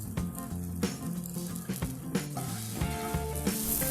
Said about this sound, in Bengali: এবার নিম পাতাগুলো দিয়ে 1 মিনিটের মতো নেড়ে ভেজে নেব।